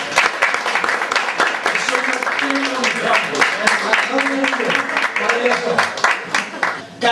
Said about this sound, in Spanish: Un fuerte, fuerte aplauso para esas tapas que nos están poniendo aquí en el Valle del Sur.